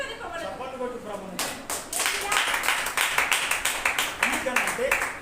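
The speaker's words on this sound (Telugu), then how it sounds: "చప్పట్లు కొట్టు ప్రభుని." A church congregation at a Sunday service claps hands in a steady, rhythmic beat that starts after a brief lead-in and continues loudly to the end, with voices heard alongside.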